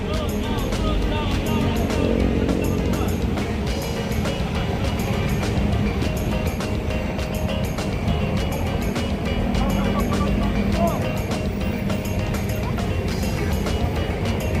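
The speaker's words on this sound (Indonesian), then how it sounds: "Mior yang keempat dan bus sumber yang ketujuh masuk di Terminal Pondok Pinang." A Mior intercity bus pulls into Terminal Pondok Pinang with a steady engine rumble amid busy station noise, and people talk over it throughout.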